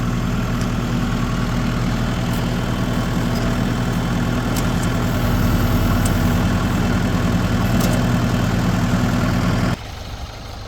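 A vehicle engine idles at an off-grid homestead, a steady low rumbling hum with a deep, even throb that swells slightly midway, then abruptly drops to a quieter level near the end.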